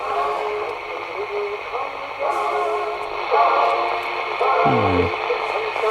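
Music plays over a CB radio channel in a Land Rover setup, coming through as a steady, hissy, band-limited stream with faint tonal lines and a constant noisy bed.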